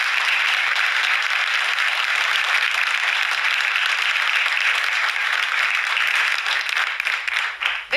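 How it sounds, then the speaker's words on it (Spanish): Steady welcome applause from a television studio audience, a dense even roar of many hands clapping for several seconds before thinning and fading out at the end. "Para ellas, el aplauso de bienvenida."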